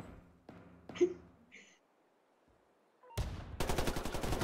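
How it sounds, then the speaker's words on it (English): Gunfire aimed at the player in the video game Deadline: a few isolated shots, a short lull, then a loud burst of rapid automatic fire that keeps going. "I'm already getting shot at."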